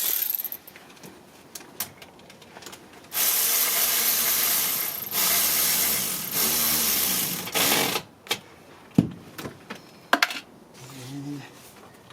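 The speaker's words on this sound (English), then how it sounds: "there's our ratchet" Ratchet wrench turning a spark plug on a 2011 Honda Odyssey, with a long steady run of close mechanical ratcheting followed by scattered clicks and knocks.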